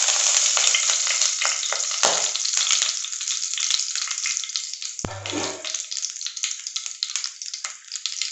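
Whole spices of cinnamon, cloves, two cardamom pods and fennel seeds frying in hot oil for a potato coconut milk curry, a steady close sizzle with a brief sharper crackle partway through, no talking.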